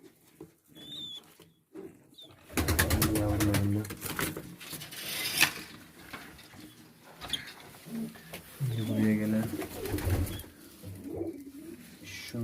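Pigeons coo at night in a loft, with soft, repeated throaty calls in several bursts, while someone talks over them at intervals.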